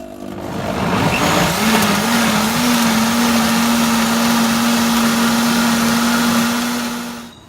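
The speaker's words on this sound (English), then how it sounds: "And now I'm going to whiz this up with some ice" A countertop blender whizzes a pink smoothie with ice, a steady loud motor whine running continuously for several seconds before cutting off at the end.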